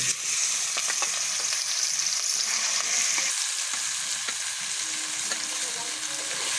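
Mashed winter vegetable bhorta sizzles steadily in hot oil as it is stirred in a pan, a continuous close frying hiss with occasional scraping clicks of the spoon, no voices.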